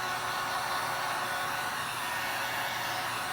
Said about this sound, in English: let's check out this heat gun. It has a 1 setting and a 2 setting